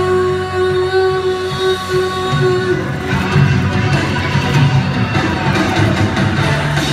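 Karaoke crowd at an anime back-to-school event applauding a participant after a Dragon Ball Z ending song, a steady, dense wash of clapping and cheering that swells midway as the music's sustained tones fade out.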